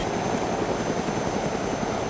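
Steady, loud whirring drone of a Huey helicopter engine running in DayZ, a constant rotor and turbine noise with no pauses or voices.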